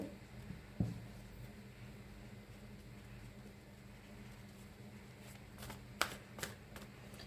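Tarot cards are shuffled and drawn, with quiet papery riffles over a low background hum, a soft tap near the start and a cluster of crisp card snaps toward the end.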